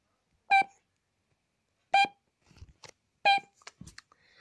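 Three short electronic beeps from the camera system in Five Nights at Freddy's 3, evenly spaced about a second and a half apart, clear and close, with faint clicks and rustles between them.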